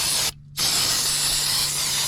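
Brake cleaner sprays from an aerosol can onto the front brake rotors of a 2014-2019 Toyota Corolla: a loud, steady hiss that breaks off briefly near the start, then resumes and continues without talk.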